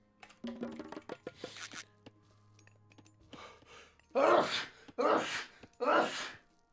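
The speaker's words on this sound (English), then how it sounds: "That was some very big sneezes." A person lets out several big sneezes, three loud forceful bursts in a row close to the microphone, after some earlier breathy vocal sounds.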